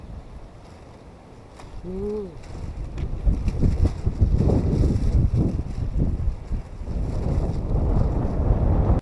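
Wind blows outdoors in a rural spot, buffeting the microphone with steady low rumbling gusts that grow stronger partway through, while a person briefly speaks.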